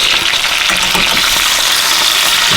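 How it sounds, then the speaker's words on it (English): Venison back straps with garlic sear steadily in a hot pan, a dense continuous sizzle and crackle of frying with no talk, loud and close throughout. "That garlic, let them sear for about 2 minutes on the side."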